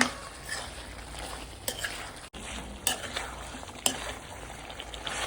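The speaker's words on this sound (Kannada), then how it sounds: "ಇದನ್ನು ಚೆನ್ನಾಗಿ ಮಿಕ್ಸ್ ಮಾಡ್ಕೊಳ್ಳೋಣ." Chicken being stirred with spice paste in a pan, close scraping and spatula clatter against the pan over a soft sizzle, with a few sharp knocks at irregular intervals.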